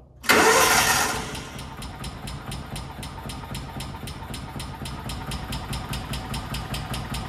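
A Kawasaki Mule 550 utility vehicle, an old barn find, cranks and fires up with a loud burst, then settles into a steady, rhythmic ticking idle that continues alone.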